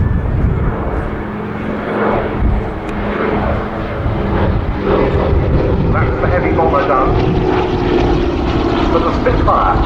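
A vintage Douglas R4D-6S and a Supermarine Spitfire XIV fly at the Duxford Summer Air Show, giving a loud, continuous propeller-engine drone that swells and fades slightly as they orbit overhead, with a commentator talking over the public address.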